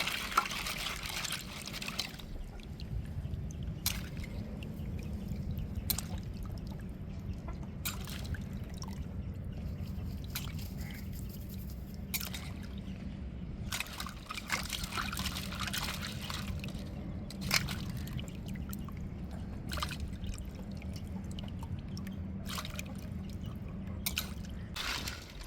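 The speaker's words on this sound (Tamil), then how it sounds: "நம்ம நல்லா அலசி எடுத்துக்கிட்டுருவோம்" Chopped mud crab pieces get a thorough rinse in water for a crab gravy, with steady sloshing, dripping and trickling throughout, near and moderately loud, no talking.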